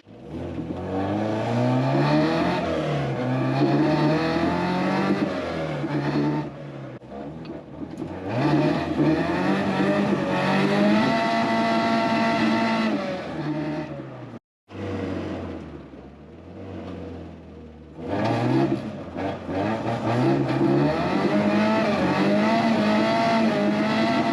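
A car drives on the road toward a garage, its engine droning and revving steadily close by, rising and falling through gear changes with one brief cut-out midway before pulling away again.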